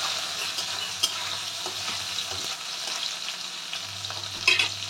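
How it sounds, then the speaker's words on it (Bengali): Tomato frying in a pan for a potato and pointed gourd ghonto, with a steady soft sizzle, scattered scrapes and clinks of a spatula stirring, and a louder scrape near the end, with no speech. "টমেটোটা ভাজা হোক।"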